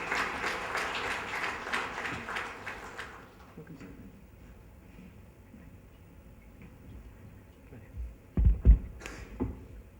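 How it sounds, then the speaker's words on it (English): Audience applause at an Economic Times realty conference in a hall, a dense burst of clapping for the first three seconds that fades into near silence, followed by a few thumps. "can we have a warm round of applause"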